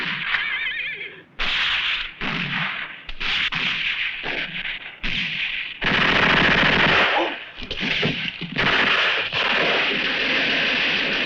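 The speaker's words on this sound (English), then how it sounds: "machine gun." A machine gun in a western film rattles off repeated loud bursts separated by short pauses, with scattered gunshot cracks and background battle noise around it, and no speech.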